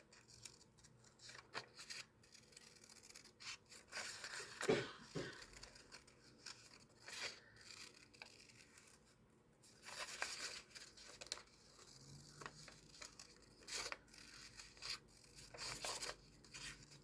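Scissors snip and rasp through a paper template for a mini string art kit, close and quiet, with irregular bursts of cutting and paper rustling spread across the stretch and no talk.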